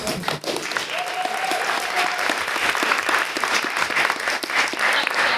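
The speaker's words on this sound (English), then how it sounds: "I didn't get a clap, but I think I deserve a clap." Steady, dense applause from a crowd at an annual general meeting fills the whole stretch, a continuous patter of many hands clapping at even loudness.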